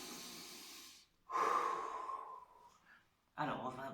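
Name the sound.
deep breath during laughter yoga session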